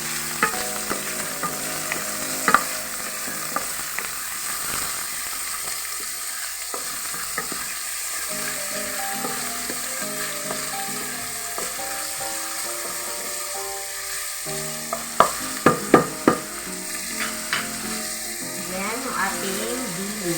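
Pork frying in a pan while ginataang langka with dilis is cooked, a steady close sizzle under stirring, with a cluster of sharper scrapes and clatters near the end.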